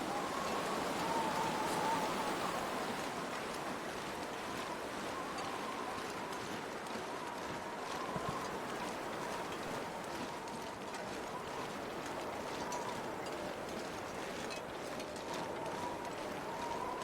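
Wind blowing steadily in the survival video game The Long Dark, a constant broadband rushing with slight swells, moderately loud and alone throughout.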